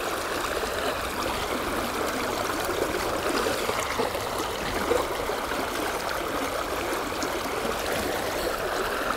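Fast, shallow river water rushes past at a trout-fishing spot, a dense steady roar and babble that stays close and constant throughout with no voices.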